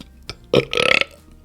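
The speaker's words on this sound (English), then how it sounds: "Coffee burps." A loud, close burp after drinking coffee, a brief rising rumble followed by a rapid fluttering belch, standing alone in a quiet room.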